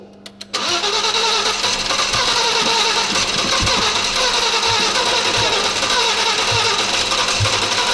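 An Audi engine, rebuilt with new timing belts, cranks briefly and then catches, settling into a loud, continuous running roar close by.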